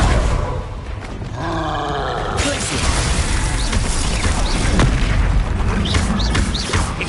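A Confringo fire spell detonates in Hogwarts Legacy with a loud booming blast, then a long roaring, crackling rumble that lingers for several seconds.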